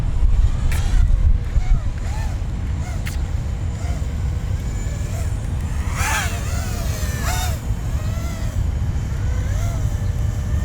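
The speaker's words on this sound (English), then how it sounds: "It's kind of windy right now." Wind buffeting a microphone during an FPV drone flight, a constant low rumbling roar, with voices faintly audible beneath it.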